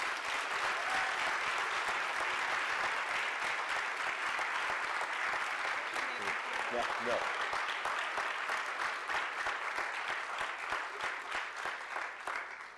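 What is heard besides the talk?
audience applause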